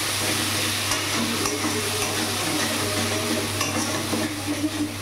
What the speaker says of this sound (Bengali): পেঁয়াজ আর রসুনটা দিয়ে আগে একটু ভাজা ভাজা করে নেব